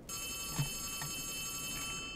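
Telephone ringing in Poppy Playtime Chapter 3, faint and shrill with a steady high-pitched bell tone and a few soft knocks beneath, heard alone.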